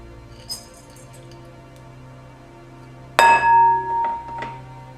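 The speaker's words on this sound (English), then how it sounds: "now we're going to add to a bowl our activated buckwheat groats" Activated buckwheat groats pour into a glass bowl in a quiet kitchen: a sudden bright clink followed by a brief rattling rush of grains hitting glass, then settling.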